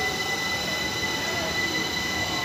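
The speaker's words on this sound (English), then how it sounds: "So this train's on the opposite side of the platform. Right, off it goes." A train pulls away from the opposite side of a station platform, giving a steady, loud rumble with a sustained high wheel squeal across the whole stretch and no pause.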